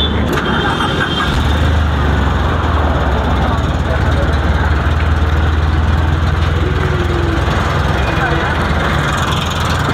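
A used car's engine starts and settles into a steady idle, a loud, even mid-pitched hum lasting throughout, heard close by.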